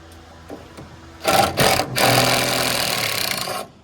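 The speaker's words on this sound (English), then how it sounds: "I'm gonna just rescrew it" A few light knocks, then a power driver whirs in short bursts before one longer steady run, driving a screw into wood on a flatbed truck build, close and fairly loud.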